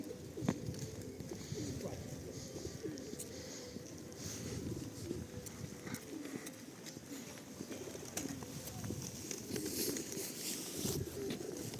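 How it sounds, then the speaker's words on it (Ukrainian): Pigeons coo softly and repeatedly over a steady outdoor hum in Truskavets, with occasional faint chirps and flutters nearby. "голуби."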